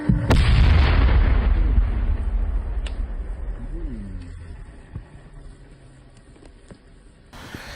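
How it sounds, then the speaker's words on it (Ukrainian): A controlled detonation of cluster munitions by bomb disposal experts: a loud, deep blast at the start rolls into a long low rumble that slowly fades, with faint distant thuds afterward. "Вибух."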